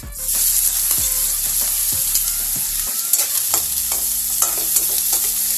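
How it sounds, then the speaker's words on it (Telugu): Thinly sliced onions drop into hot oil and crackle loudly, with a steady close sizzle and a few sharp metallic scrapes and taps of a stirring spoon against the pan. "ఆయిల్ వేడైన తర్వాత సన్నగా కట్ చేసుకున్న ఆనియన్స్ వేసుకోవాలి."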